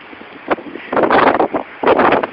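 Strong northeast nor'easter wind gusts buffet the microphone outdoors among trees, coming in loud, rough bursts of rumbling noise separated by brief lulls.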